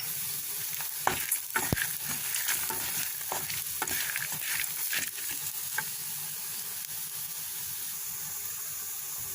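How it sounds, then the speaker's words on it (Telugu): Cumin seeds fry in a pan with a constant close sizzle, broken by repeated stirring clinks and scrapes, with no talking. "ఇప్పుడు జీలకర్ర కూడా వేసుకొని ఒక నిమిషం ఫ్రై చేసుకుందాం."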